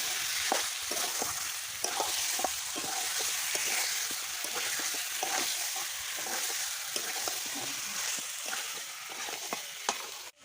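Meat for a curry fries in a pan with a steady, bright sizzle, broken by regular scraping stir strokes throughout, close and with no talk.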